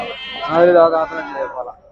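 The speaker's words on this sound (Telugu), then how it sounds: "ఇక్కడ మేకలు ఉన్నాయి" A single goat lets out a loud, close, wavering bleat lasting over a second amid a goat market at Gudur, with no speech heard.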